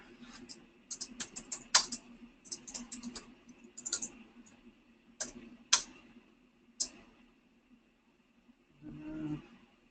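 Typing on a computer keyboard during an online property record search, with irregular bursts of crisp close key clicks separated by short pauses and a faint thump near the end.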